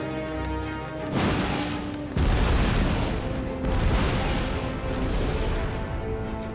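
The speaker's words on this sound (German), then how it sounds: "Wenn hier die Explosionen sind." Explosions in the video game Batman Arkham City, heard as loud, rumbling booms and crashes that roll one into the next against a dense game soundscape.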